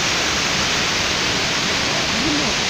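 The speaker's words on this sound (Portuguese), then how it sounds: "isso aqui já é a cachoeira aqui. É a cachoeira aqui da parte do sul." Waterfall on the Rio do Sono in Brazil, a loud broadband rush of falling water filling the whole stretch, steady and close, with a faint voice briefly underneath.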